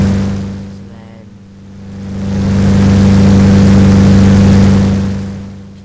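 Single-engine light aircraft running steadily in a flight simulator, a continuous droning hum with strong low harmonics that dips briefly then swells louder and holds, with no talk over it.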